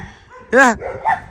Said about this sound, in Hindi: कुत्ता भौंक रहा है